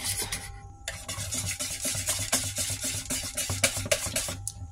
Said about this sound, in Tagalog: saka natin halu-haluin hanggang maghalo lahat ng mga ingredient